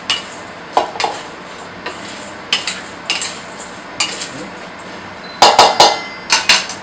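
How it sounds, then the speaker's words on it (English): Chopped vegetables being tossed with extra virgin olive oil in a bowl during a cooking demo: a close series of sharp clinks and clatters from utensils against the dish, in irregular bursts, without talk. "I'm just going to give it some tossing."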